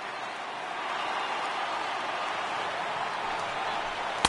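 A baseball crowd at a Nationals vs. Dodgers playoff game rises with a steady, broad roar of cheering after a strikeout, holding at an even level from start to finish.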